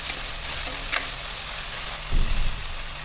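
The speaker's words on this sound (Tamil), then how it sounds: "கத்திரிக்காயும் நல்லா கிளறி விட்டுக்கலாம்" Cut brinjal fries with a steady close sizzle while a spoon stirs it, giving a brief scrape near the start and a louder stirring rustle toward the end.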